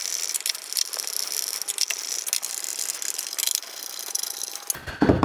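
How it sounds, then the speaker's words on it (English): Screws being tightened with a Pozidriv screwdriver on an electric scooter throttle, a busy run of small ratcheting clicks and metallic rattles, close up and continuous, with a brief louder knock at the end. "Get your posi screwdriver."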